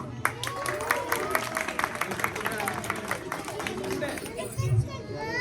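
An indoor audience at a children's fancy dress contest at Palladium Exotica claps steadily, with dense rapid applause mixed with crowd chatter and children's voices throughout.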